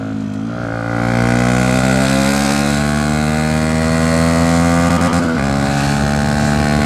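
A Bajaj Dominar 400 motorcycle pulls hard in third gear toward redline, its loud, close engine note climbing steadily in pitch for several seconds before a brief dip, with no voices.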